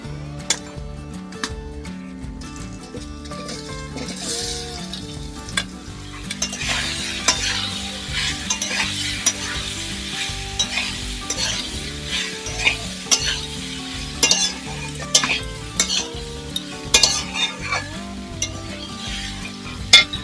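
Indian gooseberries (amla) sizzle and fry in hot spices in a pan for a homemade pickle, a steady crackling hiss with stirring scrapes and small clinks throughout.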